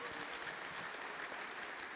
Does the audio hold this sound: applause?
yes